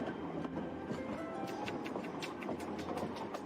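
A train rolls along the rails in an animated series, giving a continuous rumbling ride with faint rhythmic clicks and taps over the low drone, heard at a steady, moderate level without talk.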